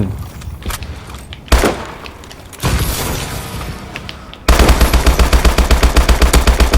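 Gunfire in Call of Duty: Advanced Warfare: loud scattered shots and booms, then a sustained rapid machine-gun burst at close range.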